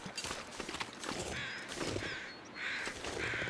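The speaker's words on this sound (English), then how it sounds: "Birds circling up there, that's not good." Crows caw repeatedly while circling overhead in the snowy wilderness of The Long Dark, their harsh calls coming in short bursts at a moderate distance over faint crunching footsteps.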